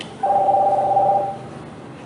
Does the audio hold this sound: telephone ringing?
yes